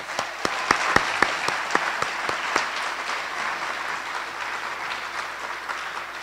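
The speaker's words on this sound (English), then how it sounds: "Let's give the dancers another round of applause." Audience applause for dancers at a partnership launch event, sharp individual claps standing out at first over a broad wash of clapping that then settles into a steady, even patter.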